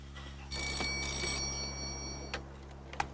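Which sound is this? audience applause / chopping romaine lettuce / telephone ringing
telephone ringing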